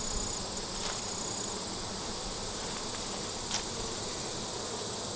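Honeybees hum steadily around an open hive during an inspection of frames heavy with pollen and a little capped brood, a continuous close buzz with no voices.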